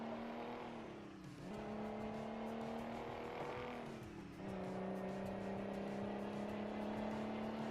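Truck engine drone in Euro Truck Simulator 2, a steady low hum whose pitch dips and climbs back at two gear changes, continuous and fairly loud throughout.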